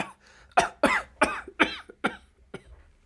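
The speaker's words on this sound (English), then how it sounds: "He pauses to cough a little bit." A run of about six harsh, rasping coughs comes in quick succession, close and fairly loud, each burst separated by a short gasp.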